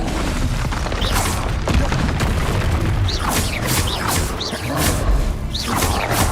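Booming magical explosions from the Confringo spell in Hogwarts Legacy, repeated thumps and whooshing bursts over a dense, loud combat din.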